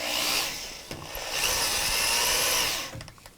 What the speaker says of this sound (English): that's the drill slipping in the chuck